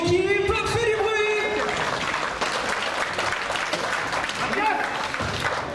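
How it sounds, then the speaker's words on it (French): Spectators at a French Cup semi-final wheelchair basketball game applaud in a steady, sustained roar of clapping that follows a short stretch of an announcer's amplified voice and carries on to the end. "Merci d'applaudir bien fort ton équipe."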